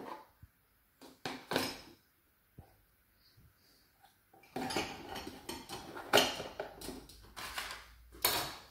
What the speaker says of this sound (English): Next, we take any small bowls you might have, small container bowls, and we place them in